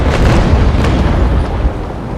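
A brig's cannons fire in the naval video game Naval Action, giving one loud, deep boom that rolls and rumbles across the whole moment with no speech over it.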